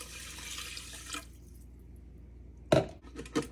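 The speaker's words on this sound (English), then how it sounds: "Then you add a cup and a half of water." Water trickles and splashes into the rice in a small electric pressure cooker pot, a light pour that stops, then a couple of sharper clinks and splashes near the end.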